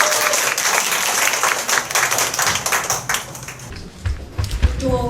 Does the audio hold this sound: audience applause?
yes